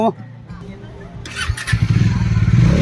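A motorcycle engine cranks and then catches into a steady, close idle that builds in loudness. Voices talk over it at the start.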